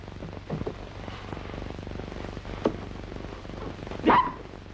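A small dog gives a couple of sharp barks, one short yip midway and a louder bark near the end, over steady background hum.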